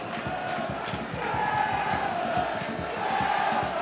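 Football crowd at an FA Cup tie between Macclesfield and Crystal Palace, a steady, dense roar that lifts slightly partway through, with rhythmic chanting and clapping running continuously underneath.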